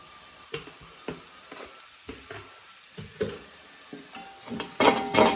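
Homemade chili powder fries in butter in a pan for Jaffna-style bread kothu, with soft sizzling broken by several spoon scrapes and stirs that grow louder and denser toward the end.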